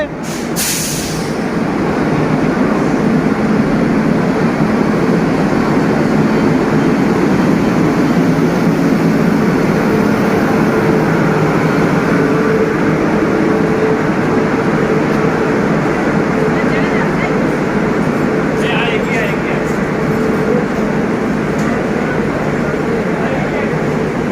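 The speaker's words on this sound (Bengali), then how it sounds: "আর ট্রেনও ঢুকে পড়েছে" A train rolls into a busy railway platform, making a loud, steady, broad rumble that holds for the whole stretch, with faint voices mixed in beneath it.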